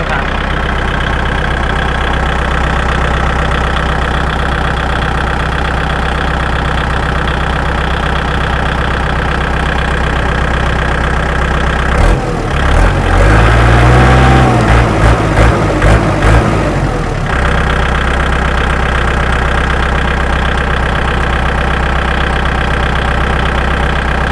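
A 2012 Kubota L4708 farm tractor fitted with a front blade and disc harrow idles with a steady, close diesel rumble throughout, rising briefly into a louder, rougher surge midway before settling back to idle.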